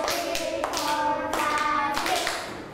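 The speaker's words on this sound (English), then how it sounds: "Clap your hands 6 times." Children in a Year 2 maths lesson clap their hands along with a counting exercise. A few sharp, evenly spaced claps ring out close by, mixed with voices.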